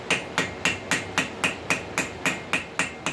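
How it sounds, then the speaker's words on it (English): A ball peen hammer strikes metal in a steady, evenly spaced series of about a dozen sharp, ringing blows, close and loud, with each hit decaying quickly before the next. The peen is worked in a circular pattern to texture the surface. "See why I like a ball peen for this?"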